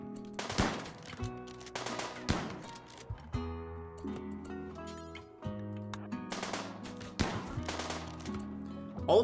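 Colonists' guns in the RimWorld video game fire in scattered rapid bursts and pops over a tonal game soundtrack, with irregular clusters of shots coming and going.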